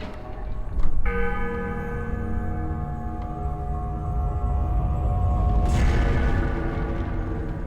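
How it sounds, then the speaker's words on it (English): Church bell struck by a swinging chandelier in Tomb Raider: Legend, England level: a heavy clang that leaves a long, ringing, slowly fading hum, then a second strike near the end over a low rumble. "we're going to ring the bell with this chandelier"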